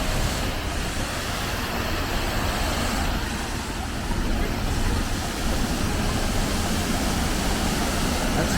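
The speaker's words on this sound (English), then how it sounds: "Here's our first waterfalls proper." An Oregon waterfall roars in a broad, constant rush of falling water that stays steady and fairly loud throughout, without a pause.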